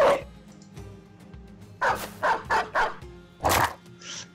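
Dog barks from the Battle Brothers video game, a burst of about four quick barks near the middle followed by one more, over a low game soundtrack.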